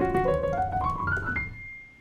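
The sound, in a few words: two-handed piano run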